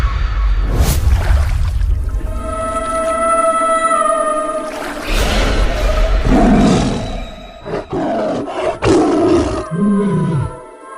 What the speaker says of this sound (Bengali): ওর তো মুন্ডু নেই, তাও গর্জন করছে